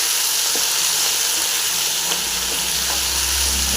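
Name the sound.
gherkins (kovakkai) frying in a pan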